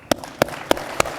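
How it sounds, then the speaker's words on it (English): Four sharp hand claps, evenly spaced and close, with quiet room tone in between. "Well, I'll clap for that."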